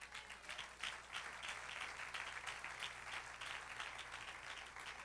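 A church congregation breaks into steady, sustained applause at a moderate distance, a dense wash of many hands clapping continuously with a low hum underneath.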